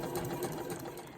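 A sewing machine runs steadily, stitching back and forth to secure elastic on a fabric scrunchie, a close, continuous mechanical whir with fast rhythmic needle pulses and no talk.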